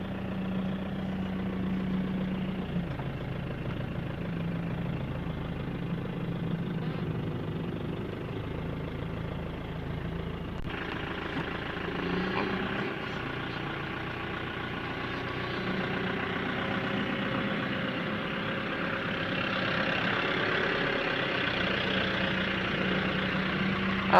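A Mahindra Bolero SLX engine runs steadily at low revs as the clutch is slowly released in first gear, a continuous droning rumble with a slight rise in intensity partway through, no voices.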